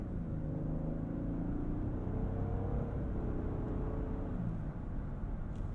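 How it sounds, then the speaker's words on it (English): A 2022 Lexus LX 600, twin-turbo V6 of about 409 horsepower, pulls under throttle with a steady, low, droning engine note heard from inside the cabin, continuous for several seconds with no talk. "when you dig into that throttle, it's a melodious note"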